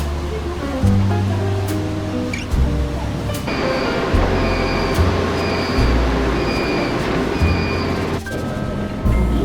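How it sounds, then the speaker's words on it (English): Kuala Lumpur monorail train in motion, a loud, close low rumble with repeating hum tones and a steady rushing roll, marked by a few sharp clicks and shifts over several seconds. "I've decided I'm going to catch the monorail"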